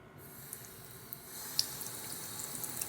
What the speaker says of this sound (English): So I like drench it in water and then just like squeeze out the water.